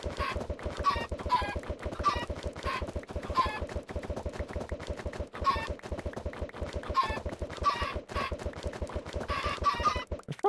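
Chickens clucking in the modded Minecraft pack SevTech Ages, a steady run of rhythmic clucks repeating over a constant droning machine hum.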